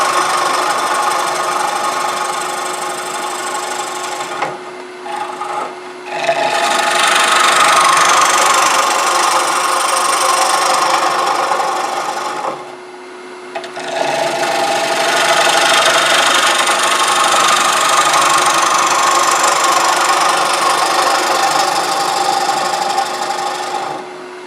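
A wood lathe rough-turns a chestnut bowl with loud, sustained scraping and chattering of the gouge on end grain, in two long cuts separated by short pauses.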